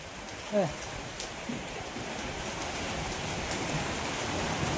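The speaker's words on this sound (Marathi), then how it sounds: "मला वाढतोय पाऊस" Heavy rain pours down in a dense, steady hiss that grows slightly louder over time, with a brief voice near the start.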